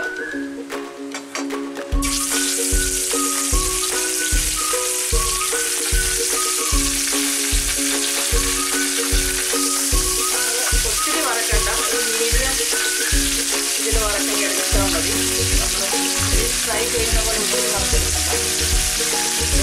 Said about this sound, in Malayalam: നമുക്ക് ഈ മീൻ ഓരോന്നായിട്ട് ഇട്ട് കൊടുത്ത് വറുത്തെടുക്കാം.